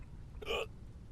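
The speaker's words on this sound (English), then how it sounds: "Hiccups." A single short hiccup from a character in the video game Quarantine Zone, quick and fairly close, standing out alone against a quiet low background hum.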